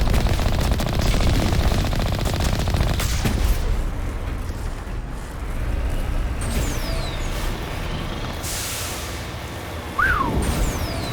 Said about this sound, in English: Hey, it's not nice shooting people.